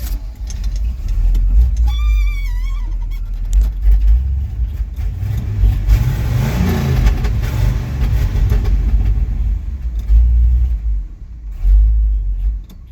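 A one-ton truck engine with a troublesome carburetor cranks, catches and runs with a loud, uneven rumble. It revs up in the middle and settles back to a rough idle, and no one speaks over it.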